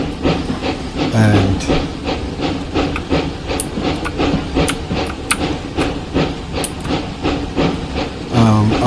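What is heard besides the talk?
narrow gauge steam train hissing, from video game Train Simulator Classic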